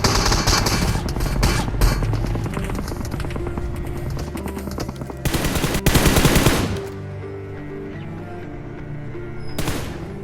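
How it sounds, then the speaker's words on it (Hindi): Rapid automatic gunfire crackles through a BGMI battle royale match, dense bursts of shots with louder close volleys near the middle and end, over steady game background sound. "तभी सामने से मेरे ऊपर फायर मार आएगा।"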